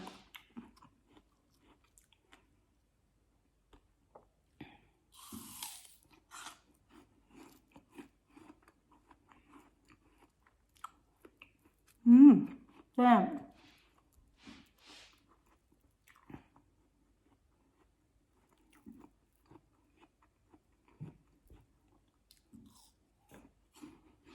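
Crisp bites and chewing of a tart apple dipped in chili salt, a couple of loud crunches standing out amid quieter mouth sounds, close to the mic with no talking.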